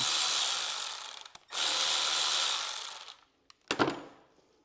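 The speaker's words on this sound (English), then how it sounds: "I'm going to go ahead and just take these nuts off. These are 3/8 socket." A power tool whirs in two sustained bursts, removing nuts with a 3/8 socket from a starter solenoid, followed by a brief metallic rattle and clunk as the tool stops.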